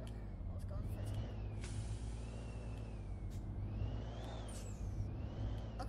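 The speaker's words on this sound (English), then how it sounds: "The weird kind of supercharger whine in this thing is kind of annoying." A Peterbilt 387 truck in Euro Truck Simulator 2 drones with a thin, rising and falling supercharger whine over a low engine rumble, with a few sharp air-brake-like hisses between.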